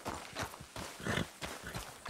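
Horse hooves clip-clopping in Red Dead Redemption 2, a quiet, steady rhythm of hoofbeats at walking pace, heard alone.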